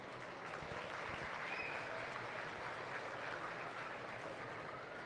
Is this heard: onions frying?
no